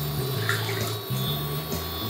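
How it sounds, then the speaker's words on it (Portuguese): Water poured from a container into a cooking pan on the stove while making candy, a steady gurgling pour with a brief break midway, loud and close, with no talking. "aí você coloca a água na sua panela"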